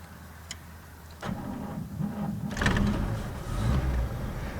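A 1941 Chevy Master Deluxe Coupe is started with its starter button: a short churning crank, then the engine catches and settles into a loud, rumbling idle close by.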